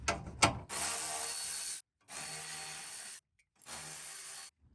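Power ratchet spinning out 12mm skid plate bolts on a Toyota truck with a 3.4L V6, in three sustained buzzing bursts after a couple of sharp knocks, close and loud with short silent gaps.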